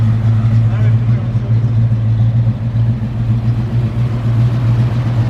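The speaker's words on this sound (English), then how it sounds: "The sound that you hear on this car is just nice rumble that everybody wants." A 1968 Ford Mustang classic car idling with a deep, steady engine rumble, loud and close, holding a constant throbbing low tone throughout while someone talks over it.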